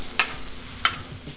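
Bibimbap ingredients cooking on a Blackstone griddle, a soft steady sizzle broken by two sharp scrapes of a spatula stirring the food, close by with no talk.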